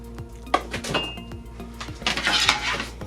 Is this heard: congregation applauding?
no